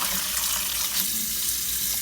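Warm tap water runs steadily into a sink while oxtail is prepared for stew, a continuous close splashing rush with no talking.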